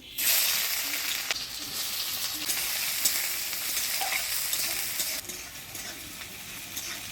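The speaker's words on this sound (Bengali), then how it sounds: "ফোড়নে দিয়ে দেবো কালো জিরা, দিয়ে দেবো পেঁয়াজ কুচি" Nigella seeds and chopped onion frying in hot tempering oil for a Bengali village dish, a loud, continuous crackling sizzle from the start, gradually easing slightly toward the end.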